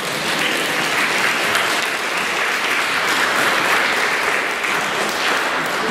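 A church congregation at a Mass applauds the reader, a loud, steady wash of clapping filling the space without pause, with no talk over it.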